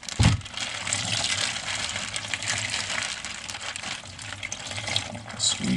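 Water sloshing and splashing steadily as clothes are rinsed in an ultralight washing bag outdoors, a continuous close wash of liquid with a few brief louder splashes.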